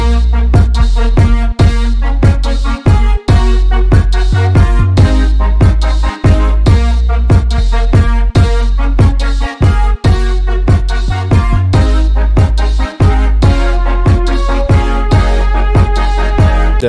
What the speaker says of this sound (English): Now let's add in the 808.